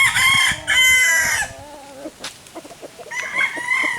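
Stag gamefowl, young roosters, crowing in bursts close by, one long crow up front, a second fainter crow midway, and another starting near the end, with scattered clucks and farmyard noise between.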